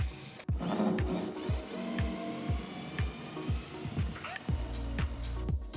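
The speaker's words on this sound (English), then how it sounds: "First, undo bolts around the perimeter of the lower part of the machine box." Screwdriver undoing the bolts around the lower edge of a Wattsan 0404 mini CNC router's shipping box, a quick series of sharp ratcheting clicks repeating at a steady rhythm, close and fairly loud.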